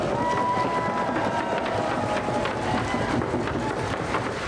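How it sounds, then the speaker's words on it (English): A crowd applauds and cheers steadily for a youth dance group at a live community performance, a dense, continuous wash of clapping that holds at an even level throughout, with some voices mixed in. "Let's hear another round of applause for those youth out there."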